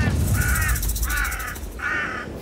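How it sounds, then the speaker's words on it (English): A crow caws three times in an evenly spaced series of harsh, nasal calls, fairly close and clear over a low rumbling outdoor background. "Look, I'm a crow."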